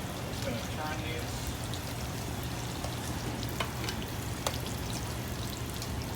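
Thin pork cutlets fry in a hot pan, a constant close sizzle with a couple of faint clicks as the pieces are turned.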